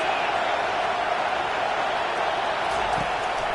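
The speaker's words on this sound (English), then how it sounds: "This crowd trying to make life miserable for this offense." Roaring stadium crowd noise in a football video game, a dense, steady wash of cheering that holds loud and unbroken throughout, with no voices standing out.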